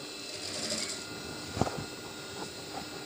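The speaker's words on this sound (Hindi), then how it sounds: "तो इसी तरीके से आपने इसको सिलाई लगानी है" A sewing machine stitches fabric for a front placket and pocket, a steady close mechanical whir with one brief knock midway.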